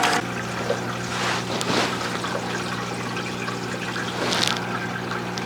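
Water flowing steadily through a flushed tube in a hydroponic deep water culture setup, a continuous close trickling rush with a faint steady hum underneath and brief splashy swells.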